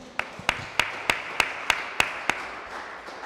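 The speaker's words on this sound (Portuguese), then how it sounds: "As palmas louvam ao Senhor" Steady rhythmic clapping during a church service, about nine sharp claps at an even tempo, close and clear over a quiet room.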